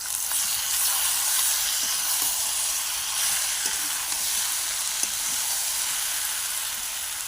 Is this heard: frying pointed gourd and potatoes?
yes